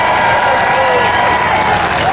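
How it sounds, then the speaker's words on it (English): Outdoor crowd applause and cheering at a rally in Freedom Square, a dense continuous roar of clapping with raised voices over it. "Give them a round of applause."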